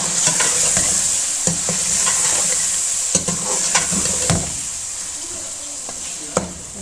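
Chicken frying with spices in a pan for murgh chanay, a loud steady sizzle punctuated by sharp spatula scrapes and clacks against the pan.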